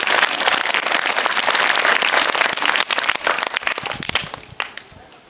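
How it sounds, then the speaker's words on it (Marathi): Schoolchildren in a primary-school classroom applaud together, a dense burst of clapping that thins out into scattered claps and fades. "टाळ्या वाजवा."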